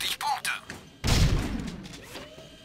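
Gunfire in a shooting challenge in Jak 2: Renegade: a few sharp shots followed by a heavy blast that booms and decays, with a voice speaking over the action.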